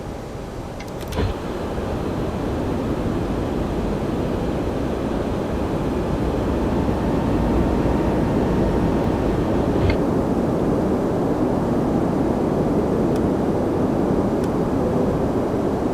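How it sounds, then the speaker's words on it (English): Steady loud airliner cabin roar inside a ToLiss A320 in the X-Plane 12 flight simulator as the landing gear lowers, with a brief mechanical thump early on and the broad rumble then continuing evenly. "let's select flaps 2 and gear down"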